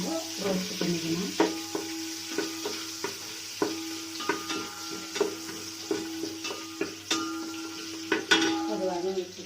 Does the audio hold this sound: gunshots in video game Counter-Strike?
no